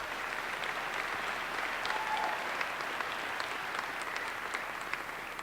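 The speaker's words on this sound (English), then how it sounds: "Let's get a big round of applause for them." Conference attendees at DEF CON 24 give a sustained round of applause for the speakers, a dense, even crowd clapping that holds steady for several seconds.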